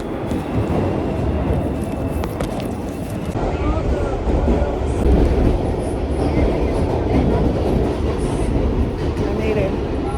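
A subway train rumbles steadily past at close range in New York City, a dense, continuous roar of wheels and cars with a faint rhythmic clatter that runs for the whole stretch without breaking off.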